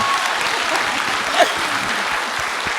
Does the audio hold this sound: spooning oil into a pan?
no